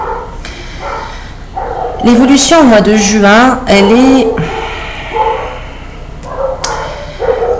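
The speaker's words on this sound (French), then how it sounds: "j'ai les chiens qui s'expriment un peu fort" Dogs bark loudly at home during a tarot reading, a couple of sharp, close barks breaking into a steady stretch of speech that carries on over and around them.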